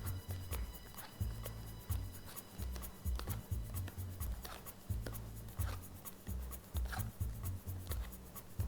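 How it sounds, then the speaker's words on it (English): Playing cards dealt face down one at a time onto a hand during a sleight-of-hand card trick, giving soft, close, repeated papery slaps and rubs in a steady rhythm with brief pauses. "I want you to start dealing cards face down onto my hand"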